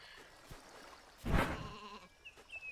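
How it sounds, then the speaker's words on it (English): A sheep on the Isle of Ewe gives a single loud, wavering bleat at close range, with quieter rustling and faint background sounds before and after. "Actually, there's another sheep up here, isn't there?"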